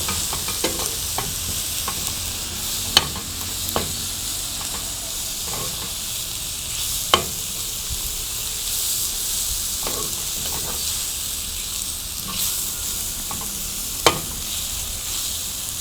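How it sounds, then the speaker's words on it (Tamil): Steady loud sizzling of tomatoes sautéing in a pan, a continuous hiss with occasional clicks and pops throughout. "ஆட் பண்ணி நல்லா ஒரு 2 நிமிஷம் வதக்குங்க"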